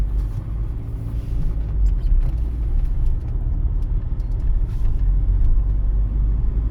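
A car driving along a city road on a driving test route in Vinnytsia, with a steady low engine and tyre rumble that stays loud and continuous throughout.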